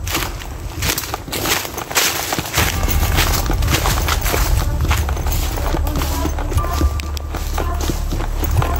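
Repeated footsteps crunching close by in an uneven rhythm over a steady low rumble.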